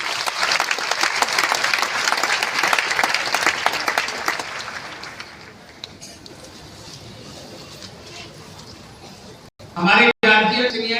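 Audience applause at a large meeting, brisk and dense for about five seconds before fading into a quieter room, followed by a voice speaking near the end.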